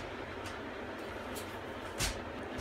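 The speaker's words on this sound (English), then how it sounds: "Sorry about the noise in here. I've got the heater fan on." A heater fan runs with a steady, faint whooshing drone and low hum, unchanging throughout, with one soft knock near the end.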